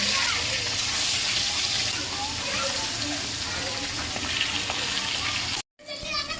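Pieces of fish, including belly cuts, fry in oil in a village kitchen with a dense, loud sizzle that holds steady, then cuts out briefly near the end.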